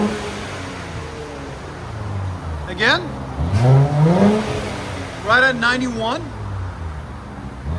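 A straight-piped 2023 Nissan Z 3.0L twin turbo exhaust is revved in a few short rising and falling blips, loud and close, while someone talks.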